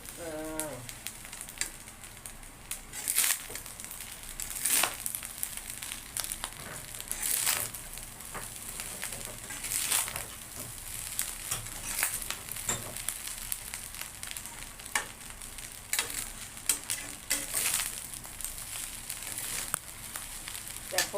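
A masala kosha sizzles and fries in a pan, a constant crackling hiss broken by repeated sharp scrapes and clatters of a spoon stirring, close and fairly quiet with no voices.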